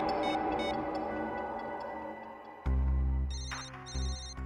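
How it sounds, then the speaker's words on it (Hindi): An electronic mobile phone ringtone rings close by outdoors in a forest, repeating bright beeping tones with a loud low-pitched ring cutting in partway through. "एक मिनट, रिंग यहीं पर बज रही है कहीं।"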